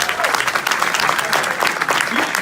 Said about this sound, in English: Big round of applause for Jason Hampton